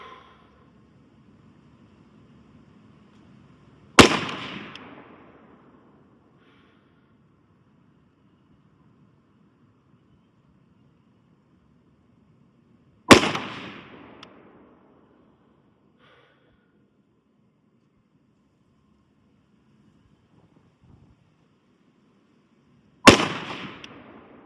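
Three loud, sharp AR-15 rifle shots fired at a target, evenly spaced about nine seconds apart, each a crisp crack with a brief decaying tail, separated by quiet stretches with faint breathing.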